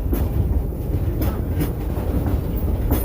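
A ride train rolls along its track in the woods, a steady low rumble with periodic clacks, continuous and fairly close, without talk.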